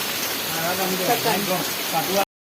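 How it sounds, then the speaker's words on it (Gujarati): Heavy monsoon rain falling over cotton fields, a dense steady hiss of downpour close by, with a voice talking over it before a sudden cut to silence. "ઓલી બાજુ વરસાદ તો જો ભૂકા બોલાવે એકદમ"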